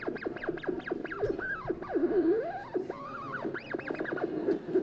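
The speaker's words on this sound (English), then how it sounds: "that little squeaky mousy sound is the sound of the sine waves going back and forth as I move one mirror back and forth" Squeaky, mouse-like chirps from a laser interferometer setup, heard as a hand moves one mirror back and forth; many rapid rising and falling warbling glides repeat over several seconds, fairly loud with no talk.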